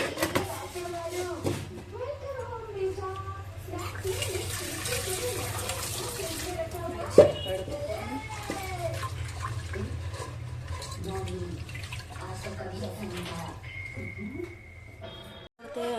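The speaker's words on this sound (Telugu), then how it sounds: "నీళ్ళు పోసుకొని" Water is poured onto toor and moong dal in a pot for drumstick dal, a brief splashing pour over a few seconds amid a voice talking and faint kitchen noise.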